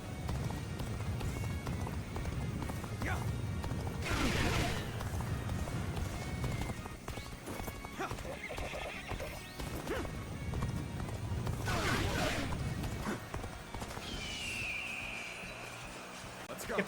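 Rapid hoofbeats of a galloping horse in Dynasty Warriors Origins pound continuously under a dense, noisy game soundscape, with a couple of whooshing swells and a brief tonal whine near the end.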